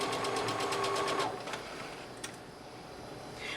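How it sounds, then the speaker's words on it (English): Sewing machine stitching a seam for an A-line dress, running steadily for about a second with a rhythmic whir, then stopping, followed by quieter mechanical handling sounds. "So I go forward, I stop, I go reverse, and then I go forward again, and that locks that stitch in place."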